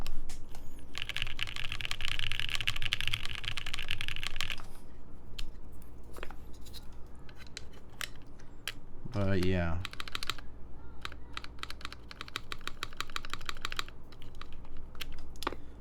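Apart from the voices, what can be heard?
mechanical keyboard spacebar typing test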